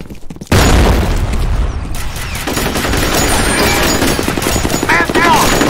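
A loud grenade blast bursts out after a brief quiet moment in F.E.A.R. Combat, followed by sustained heavy gunfire and battle noise, with faint voices mixed in.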